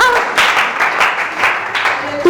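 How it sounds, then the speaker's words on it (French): Applause from a conference audience at an Eden Health event in Yamoussoukro, a broad steady wash of clapping lasting throughout, with faint voices mixed in. "Ça s'acclame."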